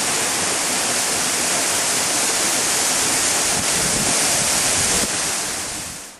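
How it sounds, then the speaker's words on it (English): Continuous rushing water from a small waterfall on the Big Island of Hawaii, loud and close, a steady broadband roar that fades out at the end. "our first little waterfall of the day"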